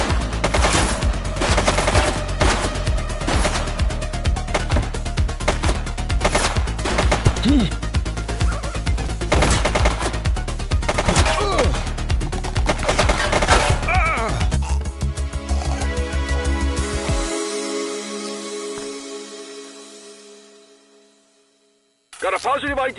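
Rapid, sustained gunfire from the police video game The Precinct on PS5, loud and dense with overlapping bursts, then fading to near silence before a final short burst; voices talk in places.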